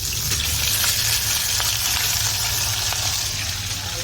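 Fish frying in hot oil for a Bengali pampar panchmishali dish, a steady close sizzle with faint crackles running continuously, no voices.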